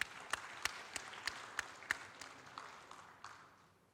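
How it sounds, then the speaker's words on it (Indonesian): Faint, scattered applause: a handful of sharp, distinct claps spread over a few seconds, fading toward the end, heard from a distance. "Boleh kita tepuk tangan untuk teman-teman."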